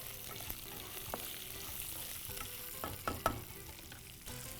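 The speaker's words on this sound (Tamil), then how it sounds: "போட்டு நல்லா வதக்கு." Onion and green chillies fry quietly in a pan with a soft, steady sizzle, broken by a few sharp clicks and scrapes from a stirring spoon.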